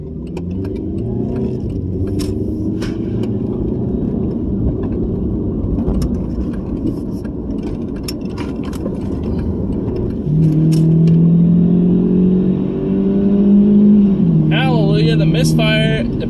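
VW Passat engine running after an ignition coil replacement, a steady in-cabin drone under road noise that climbs in pitch as the car accelerates, with a person talking over it.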